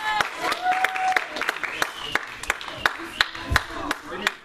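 Clapping at a gathering before a gym game, mostly sharp separate claps from a few people in a loose, uneven rhythm, with background voices talking under them.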